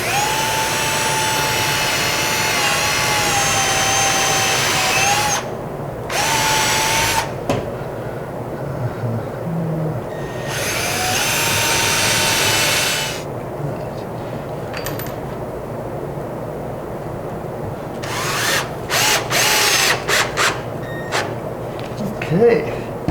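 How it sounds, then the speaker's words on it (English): A power drill bores a small pilot hole into a very large wooden door, its motor whining loudly and steadily in several long runs broken by short pauses, with light clicks and handling noises in between. "I'm going to actually drill a very small pilot hole."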